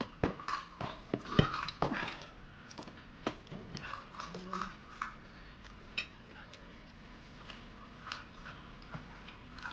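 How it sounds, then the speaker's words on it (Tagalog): A dog gnaws on a large pork leg bone, sharp irregular crunches and clicks in bursts over about ten seconds, loudest early on and sparser later, close and without talk. "binigay ko na lang yung malaking buto para ngat-ngatin niya"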